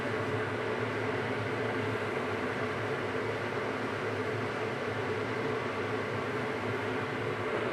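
A clay pot heats over a stove burner, and the flame gives off an even, unbroken broadband roar and hiss at moderate level with no voices.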